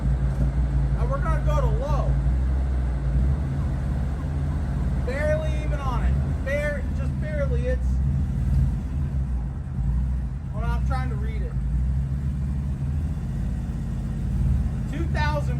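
A CFMOTO off-road vehicle fitted with an RNG Performance clutch kit creeps backward at barely-touched throttle, its steady low engine rumble close and continuous while people talk over it throughout.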